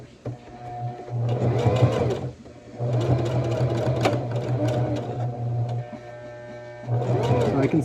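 Sewing machine stitching a Christmas pillow case, running in three bursts of steady mechanical whirring with short pauses between them, close and loud.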